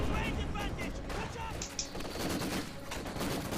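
A machine gun firing from inside a church in Company of Heroes 2 rattles out sustained bursts, loud and continuous, amid other battlefield gunfire and crashing impacts.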